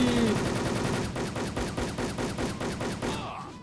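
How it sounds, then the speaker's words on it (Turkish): Rapid bursts of gunfire from a Wolfteam shooter match, where a pump shotgun fires two shells at once; dense, loud repeated shots in a fast rhythm that taper off near the end. "Pompalı. Lan 4 mermisi var bunun. Sağ klikte ikisini birden atıyor."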